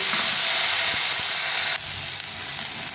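Chopped tomato fries in hot oil with dried chili, cumin and bay leaf, giving a loud, dense, continuous sizzle that drops to a slightly softer hiss partway through.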